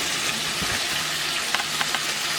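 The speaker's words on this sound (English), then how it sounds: "you see how the frying is going on?" Batch of lemon pepper chicken frying in a pan, a continuous close sizzle with crackling pops and a few sharper spatters.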